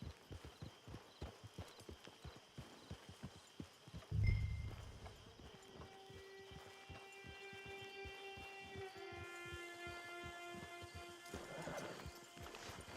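Horse hooves clip-clopping at a steady walk in Red Dead Redemption Online, with a faint neigh midway and a low ambient drone of in-game music underneath.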